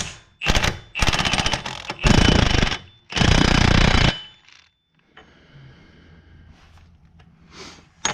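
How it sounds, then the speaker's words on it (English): An impact wrench runs down the front axle nut on a 2011 Cadillac DTS wheel hub in four loud, rattling bursts close by, followed by quieter shop noise. "I'm going to run it down with the impact, but you do not tighten it with the impact."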